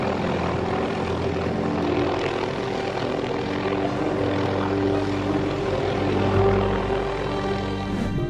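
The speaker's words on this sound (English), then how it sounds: "to rescue this seagull stuck in the power lines, they needed a whole helicopter" A helicopter hovers to rescue a seagull caught in power lines, its rotor and engine giving a steady, loud droning roar with a constant low thrum throughout.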